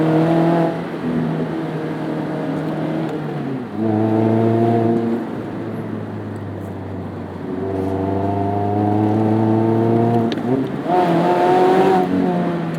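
Mazda MX-5 Miata running on E85 revs hard through the gears on Malibu canyon roads, its engine note climbing steadily toward a high redline, dropping at each shift and climbing again, loud and close throughout.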